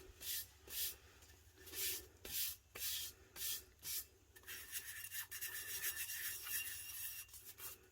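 An adhesive-coated tumbler, sprayed with Elmer's spray adhesive, is burnished by hand in rhythmic rubbing strokes, about one per half second, that merge into a continuous close scuffing sound.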